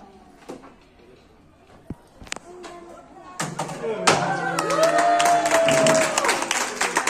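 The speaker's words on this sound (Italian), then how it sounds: "Un applauso a voi!" Audience applause swelling and holding loud at a magic show with foulards, a broad crowd clatter building midway and continuing to the end, with a voice and a sustained tone over it.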